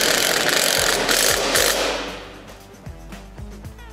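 A small wrench ratchets a mounting bracket bolt on a go-kart: loud mechanical clatter at first, then a series of sharp, evenly spaced ratchet clicks close up.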